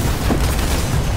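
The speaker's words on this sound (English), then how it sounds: "That was an explosion." A single deep explosion in Fortnite, a loud low boom with a rumbling, sustained body through the short moment, heard alone with no talk.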